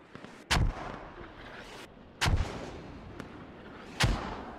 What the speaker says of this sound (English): And mortars are coming in. I think that has to be US mortars on target here.